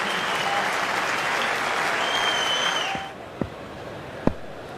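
A cricket crowd at an India versus Australia Test match applauds a batsman's long innings, broad and steady for about three seconds before fading out to quieter stadium ambience with a couple of sharp knocks.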